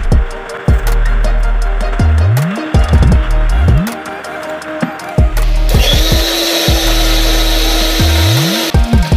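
A blender whirs through a banana shake in repeated short bursts, the motor spinning up and winding down several times, then running in one longer loud stretch; no talking.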